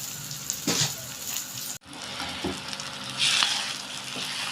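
Eggs and onions fry in a pan with a soft, close sizzle, broken by a sharp clunk and followed by gentle stirring scrapes while the crackle continues quietly.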